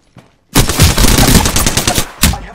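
Apex Legends gunfire arrives as a sudden loud burst of rapid automatic shots that rattles for about a second and a half, then one more short burst follows.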